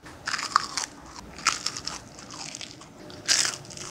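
Crisp crunchy bites into a fried perilla leaf pancake with thin batter, three sharp crackling bursts with softer chewing crunches between them, close to the mic.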